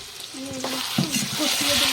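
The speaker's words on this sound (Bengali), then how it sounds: "ভালো করে কষাবো" Chicken with masala sizzles as it is stir-fried in a pan, with a steady frying hiss and short scraping stirs close by, while a voice briefly sounds in the background.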